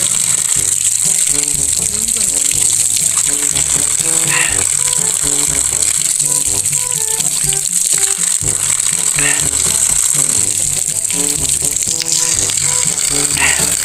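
Steady, loud rush of water pouring from a hose, a constant hiss with rattling clatter underneath throughout.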